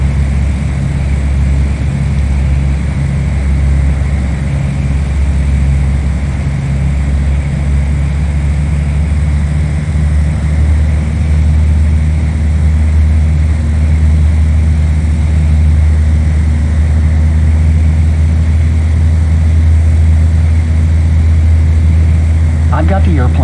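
The engine of a light airplane in FSX drones steadily and loudly throughout straight-and-level flight, an unchanging hum with no breaks.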